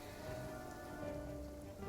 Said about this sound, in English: Oh, I guess that's why it's raining, though.